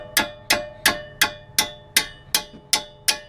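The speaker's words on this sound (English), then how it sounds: "what I'll do is I'll tap a couple times with the hammer" A mallet taps steadily on brake caliper bolts during a rear brake install on a Volvo V60 Polestar, about nine sharp metallic strikes at an even pace, close and clear, with no talk.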